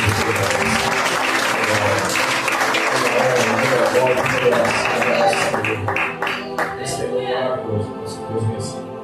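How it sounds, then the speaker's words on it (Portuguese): A church congregation breaks into sustained, dense clapping during a worship service, with voices mixed in, then thins toward the end into scattered individual claps. "Faz uma salva de palmas para Jesus."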